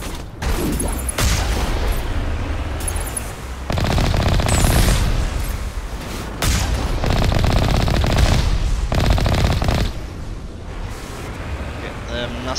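Turret gunfire on Virmire in Mass Effect Legendary Edition, dense loud bursts of rapid automatic fire in several long stretches separated by brief lulls, with a low rumbling bed and heavy impacts.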